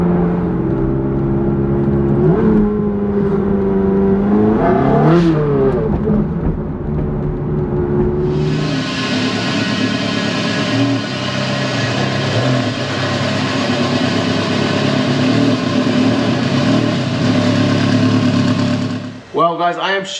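A Ferrari 360 Challenge Stradale engine, a flat-plane V8, revs steadily and loudly at around 4,250 rpm for most of the clip after a few seconds of talk and lower idle-like rumble.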